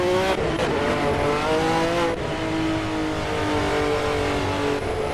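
A V12 race car in Assetto Corsa at Brands Hatch roars loudly up close, its engine pitch climbing and dropping through shifts with downshift blips and a hint of tyre squeal.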